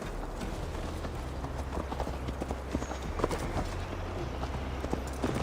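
Horse hooves clip-clop at a brisk riding pace in the video game Assassin's Creed Valhalla, steady rhythmic thuds over a low ambient rumble and faint background sounds.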